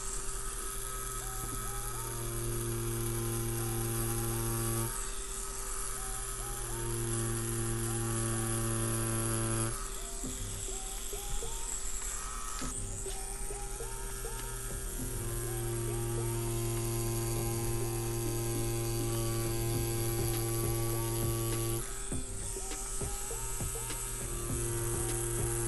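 A tattoo machine drones during neo-traditional linework on a Molotov cocktail design, a steady close electric buzz with a constant hum that cuts out briefly a few times, with no voices.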